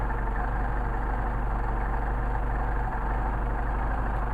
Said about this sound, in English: we can't do anything until we get the engine warmed up